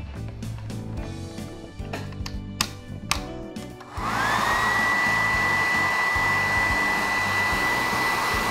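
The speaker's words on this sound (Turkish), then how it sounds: "Saç kurutma makinesi de burada." A toy hair dryer switches on partway through and blows in a loud, steady whir with a rising whine. Before that come tapping and handling noises, and music plays underneath.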